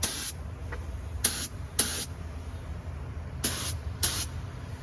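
Short separate bursts of spray paint hiss onto a Magnum 500 wheel during restoration, five quick blasts spaced unevenly over a low steady background rumble, fairly close.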